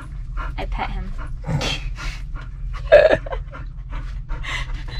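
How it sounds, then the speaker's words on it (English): A large dog pants steadily and lets out a short, high whimper close by, with scattered soft noises around it on a boat being repaired. "You're a real big lap dog."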